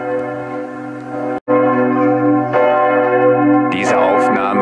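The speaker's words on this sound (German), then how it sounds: "um die Akustik hier einzufangen, wenn die Kirchenglocken läuten" Church bells ring in Osterode, a loud, close, sustained peal of layered tones with a brief dropout partway through and a burst of brighter clanging strikes near the end.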